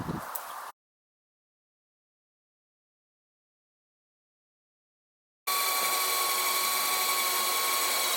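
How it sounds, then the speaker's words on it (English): A steady, high-pitched power drill whines continuously, drilling a hole in a van roof for a roof fan, after a brief burst of noise and several seconds of silence. "Today I'm gonna drill the hole for the roof fan"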